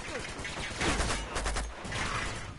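Shotgun blasts in Uncharted 2 Remastered come as a few loud, booming reports within about three seconds, spaced unevenly amid other gunfire, with no speech over them.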